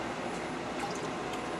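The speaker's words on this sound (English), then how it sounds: "Now he's placing it into a water bath" An asphalt mix sample is lowered into a laboratory water bath held at 77°F, giving a faint, brief slosh with light drips and trickling water over a quiet room hum.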